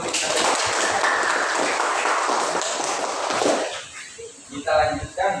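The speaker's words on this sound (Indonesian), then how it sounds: "Berarti semuanya adalah benar. Tepuk tangan dulu." A classroom claps together after a quiz result: a dense burst of many hands lasting a few seconds, then fading out as a voice speaks over the tail.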